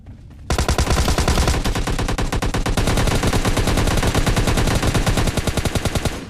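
An M4 rifle fires in PUBG Lite in loud, sustained rapid bursts of automatic fire that run almost continuously with a tight, fast rhythm.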